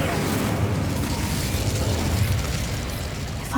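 A fire spell, Incendio, cast in Hogwarts Legacy, heard as a steady roaring, crackling rumble of flame and blast noise that holds loud and dense throughout with no pause.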